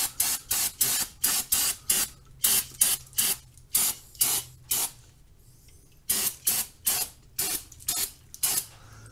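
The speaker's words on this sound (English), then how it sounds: "we're going to spray it all clean with some brake parts cleaner." Short aerosol bursts of brake parts cleaner hiss onto drum brakes in quick succession, close and loud, with a brief pause midway before the rhythmic spraying resumes.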